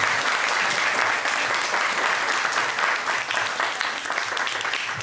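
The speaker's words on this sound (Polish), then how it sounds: "to są oklaski dla Józefa Piłsudskiego" Audience applause for Józef Piłsudski after a talk, a dense, steady clapping from a crowd lasting the whole stretch at even loudness with no speech.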